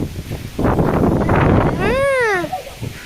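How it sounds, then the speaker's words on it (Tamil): Strong wind buffets the microphone in a loud rushing blast, and a voice rises in a long call over it before the gust eases. "காற்று எப்படி வருது பாருங்க, செம்ம காற்றுங்க."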